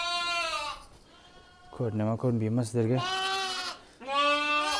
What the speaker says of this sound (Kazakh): Анда тұрғандары ол туған қойлар.